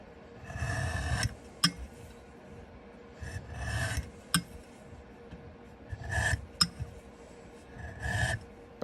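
Leather inner pockets of a cardholder are thinned by hand, giving repeated rasping, filing strokes in short bursts with small sharp ticks between them, close and fairly quiet, with no talking.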